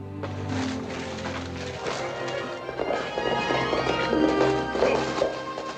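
Horse hooves beat in a quick galloping clatter in a Western film scene, rising in intensity over a few seconds amid scuffling and raised voices.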